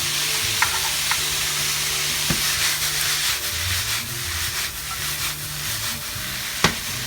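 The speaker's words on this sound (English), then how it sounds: "my meat's cooking" Steak meat for a Philly cheesesteak fries in a pan with a loud, steady sizzle, punctuated by occasional scraping clicks of a utensil stirring the meat, close up and without talk.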